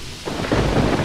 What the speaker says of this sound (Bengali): বৃষ্টি তখনও সমানে পড়ে চলেছে।